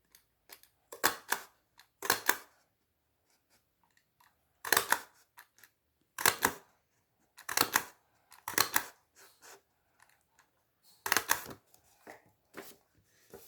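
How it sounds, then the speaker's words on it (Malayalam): A paper hole punch snaps through paper again and again, with sharp paired clicks in irregular bursts separated by short quiet pauses, close and fairly crisp. "അതിനായിട്ട് പഞ്ചർ എടുക്കാം."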